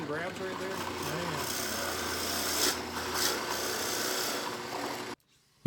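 Steady grinding rasp of a drill bit boring into wood to make a carpenter bee trap, a continuous abrasive whir that runs for several seconds before cutting off abruptly.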